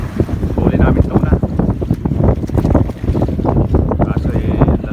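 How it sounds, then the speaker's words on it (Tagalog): Constant low rumble of wind and churning water around a small tuna-fishing boat in rough, big-wave seas on the Pacific Ocean, with continuous buffeting wind noise on the microphone and some indistinct voices mixed in. "Kaso lalaki ng alon,"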